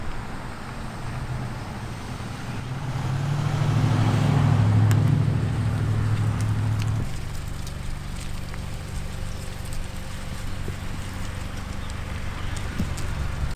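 Car engine fitted with an aftermarket cold air intake, a low steady rumble that swells louder for a few seconds in the middle, then settles back to a quieter idle-like hum.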